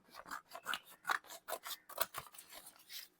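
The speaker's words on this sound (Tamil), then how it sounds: "அதுக்கு நம்மளோட எப்பவும் போல் இந்த நியூஸ் பேப்பரை வந்து கிழிச்சிக்கலாம்" Newspaper being cut and torn with scissors to make a photo background, a series of about a dozen crisp snipping and rustling strokes in a steady rhythm, close and fairly quiet, with no voices.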